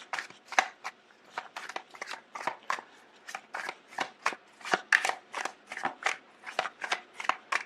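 Tarot cards being shuffled and drawn, with a steady run of crisp riffling, flicking strokes at a regular rhythm, close and clear with no talking.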